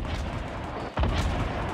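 A rocket fires in a shooter video game: one heavy, booming blast cuts through a steady rumble of in-game noise about midway, loud and close with a lingering roar afterward.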